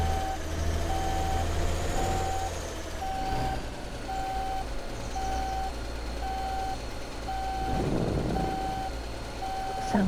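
A video game truck's reversing alarm beeps in a steady, evenly spaced rhythm over a constant low engine rumble, in Alaskan Road Truckers.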